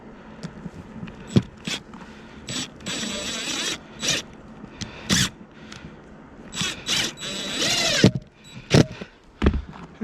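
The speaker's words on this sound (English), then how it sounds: "I'm only going to put a couple of screws on the roof here." Power drill driving a couple of screws into a roof during a Starlink dish installation, heard as short separate whirring bursts with ratcheting clicks, loud and close, spaced irregularly across the clip with no talking.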